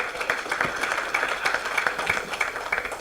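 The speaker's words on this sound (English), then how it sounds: "just a big round of applause" Conference attendees at a stakeholder session give a round of moderate applause. Individual claps stand out in a loose, uneven patter across the room, and the sound stays steady without building.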